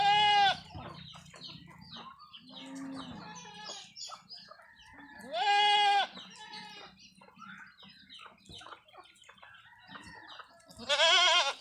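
Several loud goat bleats ring out close by, wavering calls spaced through the clip with quieter animal noises and murmurs between them.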